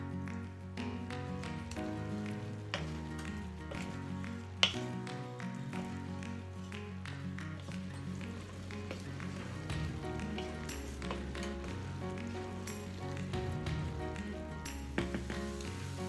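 Onions sizzle steadily in a pot for French onion soup, a continuous close crackling fry with scattered taps and clinks of stirring throughout, no talking.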